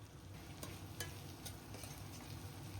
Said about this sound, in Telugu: ఇప్పుడు ఇందులోనే కట్ చేసి పెట్టుకున్న ములంకాయ ముక్కలు అయితే వేస్తున్నాను.